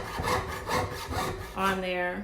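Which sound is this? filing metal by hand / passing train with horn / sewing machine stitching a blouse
filing metal by hand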